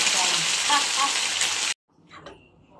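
Vinegar poured into hot oil as lumpia shanghai fry makes a loud, hissing sizzle that roars for under two seconds, then cuts to near silence with faint clinks.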